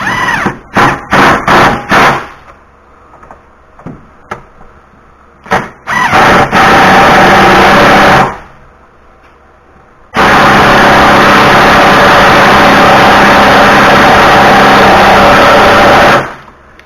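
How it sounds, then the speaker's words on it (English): Ratcheting and tightening of 18mm bolts on the trailing arm of a 2018 Chevy Malibu: a run of sharp metallic clicks and clanks up close, then long stretches of loud, steady broadband noise. "I'm just going to tighten them a little bit"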